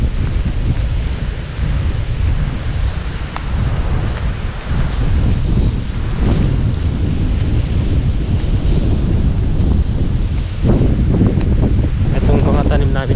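Strong typhoon wind roars loudly and continuously, buffeting the microphone with rain and gusts, while someone talks under the storm noise.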